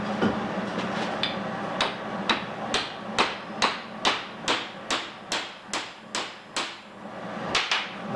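A welded shop press jig being tapped back into square with a hammer: about a dozen sharp metallic strikes at a steady, deliberate pace, close by and alone.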